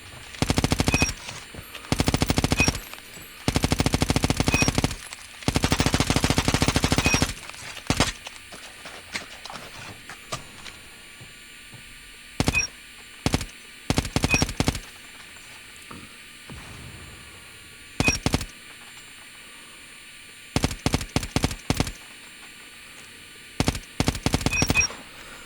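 Machine gun firing in Call of Duty ranked gameplay on the Cordite, loud rapid bursts of automatic fire, some long and some short, separated by quiet gaps.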